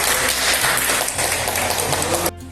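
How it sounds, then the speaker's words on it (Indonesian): Applause for Bu Sri at a Javanese church gathering of incoming and outgoing council members, a dense, steady wash of clapping that stops abruptly near the end. "Tepuk tangan untuk Bu Sri."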